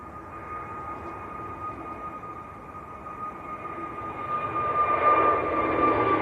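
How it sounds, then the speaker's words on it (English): An EasyJet jet airliner bound for Fuerteventura rolls and rotates on takeoff at Manchester Airport, a steady engine roar with a whining tone that swells louder as it climbs away, with no voices. "EasyJet to Fuerteventura, just starting the roll as well."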